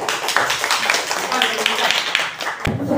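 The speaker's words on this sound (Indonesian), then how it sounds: "kelompok 1 keren, silahkan diberi tepuk tangan dulu." Students in a chemistry classroom clap for a group after its presentation, brisk close-up handclaps mixed with chatter and voices, with a brief dip near the end before clapping resumes.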